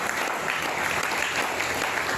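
A church congregation claps together in dense, sustained applause, a steady wash of many hands filling the room at fairly high volume.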